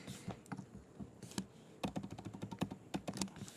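Typing on a computer keyboard while designing an email: close, quiet key clicks, a few scattered taps at first and then a quicker burst of rhythmic keystrokes, with no talking.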